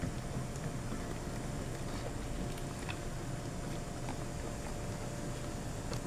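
Pompano fish soup seasoned with salt and MSG boils in a pot, giving a steady, dense bubbling rumble that runs unbroken at an even level, with no voices.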